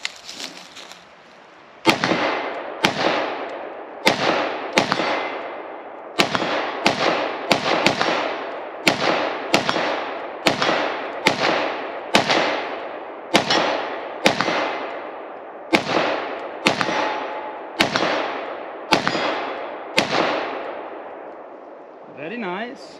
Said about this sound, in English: So Fox's very first shots out of the X95.